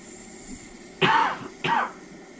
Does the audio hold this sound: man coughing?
yes